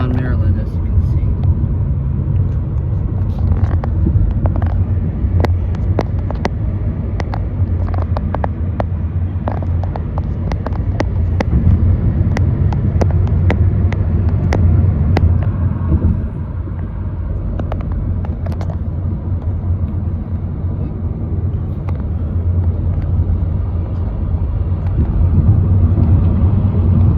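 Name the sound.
car driving on highway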